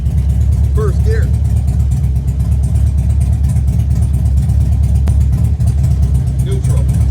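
A Harley Road King motorcycle idles with the clutch pulled in and first gear engaged, its engine putting out a loud, steady, close rumble throughout with a few brief squeaks over it.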